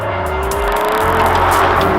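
An Aston Martin Vanquish accelerates hard, its loud engine note climbing steadily in pitch over a deep rumble, heard close up without talk.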